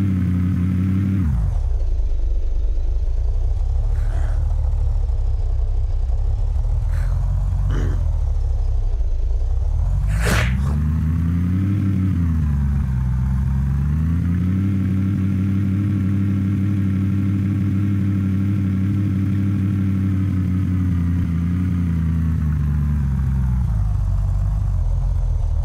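A car engine in the video game Unturned runs steadily and loudly throughout, its pitch dipping and rising as the vehicle revs and drives, with a few brief clanks near the start.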